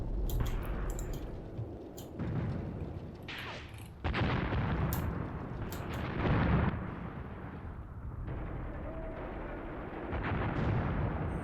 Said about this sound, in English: We've got some artillery landing in here.